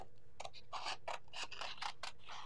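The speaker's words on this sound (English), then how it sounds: "just cut these out." Scissors snip out small die-cut card sentiments in short, quick cuts, several crisp snips close by, with no talking.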